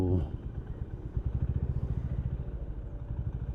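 A motorcycle engine throbs steadily with a rhythmic, pulsing chug while riding through traffic, close and continuous, with a voice briefly at the start.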